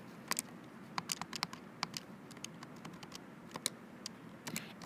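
Quick, light clicking keypresses on a calculator or computer keyboard, entered in short irregular bursts, close but quiet against a faint background hiss, with no talking.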